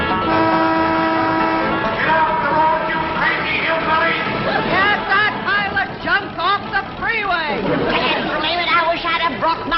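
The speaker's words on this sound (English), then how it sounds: "They's downright mean, a honking and a yelling like that." Car horns honk on a busy road in a 1960s comedy scene, several toots and blares overlapping with traffic noise while people talk loudly over them.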